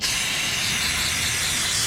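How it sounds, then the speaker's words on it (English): An aerosol can of brake cleaner sprays onto the drain plug and oil filter of a Nissan NV200 van during an oil change, giving one loud, continuous hiss close by, with no talk. "spray down our drain plug and oil filter"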